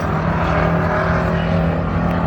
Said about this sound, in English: Front straightaway action here between the 44 and the 21R.